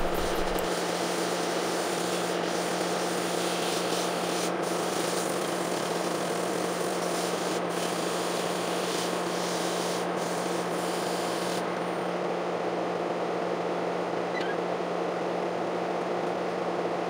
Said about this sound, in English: I'm sanding from 80 grit to